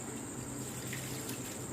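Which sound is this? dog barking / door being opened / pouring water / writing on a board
pouring water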